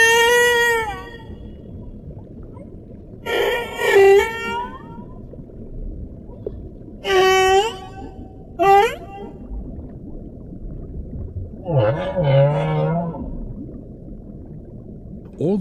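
Humpback whale song: several separate drawn-out moans and whooping calls with rising and falling pitch, spaced by pauses, over a low, steady underwater rumble.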